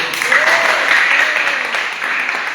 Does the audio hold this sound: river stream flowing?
no